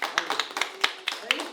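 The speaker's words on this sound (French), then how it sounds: "Allez, on applaudit" Children and adults at a school Téléthon event clap in loose, uneven bursts, close and moderately loud, with a voice talking over the clapping.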